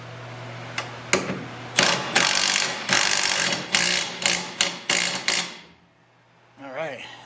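A hand ratchet tightens the sway bar end link while coilovers are fitted to an 11th-gen 2022 Honda Civic. It gives several rapid, close bursts of clicking separated by short pauses, then goes quiet.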